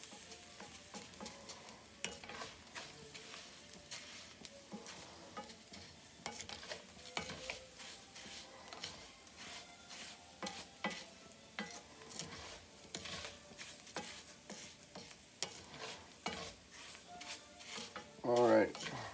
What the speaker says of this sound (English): So we're just gonna keep on stirring it and watching it.